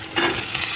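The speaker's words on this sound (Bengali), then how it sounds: "মশলাটা কষানো হয়ে গেছে" Tomato and spice masala (ginger, cumin, coriander, turmeric, chilli powder) sizzles in a pan while being sautéed, a soft continuous frying hiss with a brief swell of stirring, close and alone.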